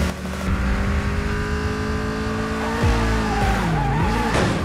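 A car drifts with sustained tire squeal in Super Street: Racer, the screech bending and wavering in pitch over a steady engine drone, loud and close with no talking.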